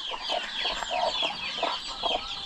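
Chickens clucking in a coop where young chicks have recently hatched, heard as steady, overlapping clucks and chirps at close range with no talking.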